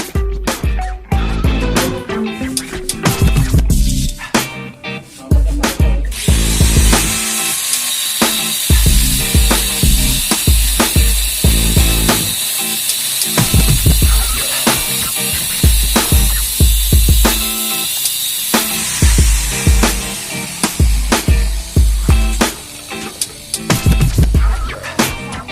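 Power cutting on the metal frame of a Kawasaki Ninja 250 FI motorcycle during a modification, with a harsh, loud, sustained grinding and rasping that repeatedly stops and restarts, close by with no clear talking.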